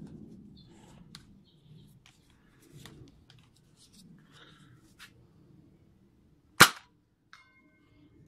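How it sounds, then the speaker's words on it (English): A Nerf Hotshock blaster fitted with an adapter and its stock spring fires one sharp, loud pop after some quiet handling clicks and rustles, followed by a small click. "let's fire this baby."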